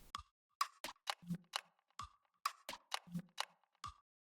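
Percussion loop from a free sample pack, a dry rhythmic pattern of sharp clicks and knocks repeating in a steady groove, close and alone.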